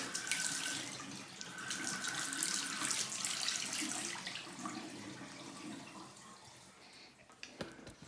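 Water runs steadily from a tap into a sink in an abandoned house in the Arctic, a continuous rushing stream that shifts slightly as hot and cold are adjusted, with a few clunks near the end.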